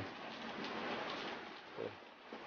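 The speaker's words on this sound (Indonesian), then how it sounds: "sayang hujan teman-teman" Steady rain falls at a villa at the foot of Mount Gede Pangrango near Sukabumi, a continuous soft hiss of drops with a few brief nearby knocks.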